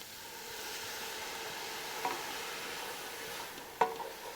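Onions sautéing in a pan for beef stroganoff, a steady close sizzle and hiss with two brief scraping stirs near the middle and end, no voices.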